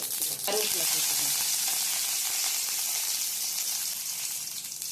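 Mustard seeds and cumin sputter and crackle in hot oil for a potato masala, a dense, steady sizzle with a few sharper pops near the start, close and loud throughout.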